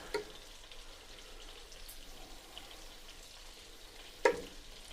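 Spinach with mushrooms, tomato, garlic and onion cooking down in a pan gives a soft, steady, quiet sizzle with a couple of light clicks, with no voices.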